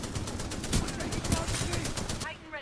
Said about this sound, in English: I keep getting shot from different directions, trying to get a bead on anybody who's shooting me